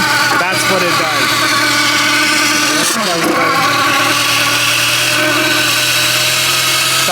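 A supercharged R53 Mini Cooper engine idles roughly with a minor misfire, a loud, steady, close mechanical drone with a brief stumble partway through, while someone talks over it.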